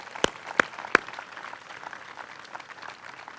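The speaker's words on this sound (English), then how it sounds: "Let's give our staff a round of applause." At an outdoor Torrance centennial parade and time capsule dedication, three loud, close, separate claps ring out first, then scattered light clapping from a thin crowd continues faintly.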